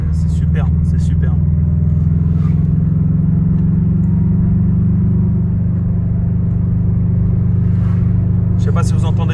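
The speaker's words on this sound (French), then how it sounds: "Je sais pas si vous entendez bien le bruit là, mais c'est un bruit bien rauque à bas régime." Subaru Impreza engine idling and rumbling hoarsely at low revs, a steady deep drone that runs throughout, close and loud, with someone talking over it in places.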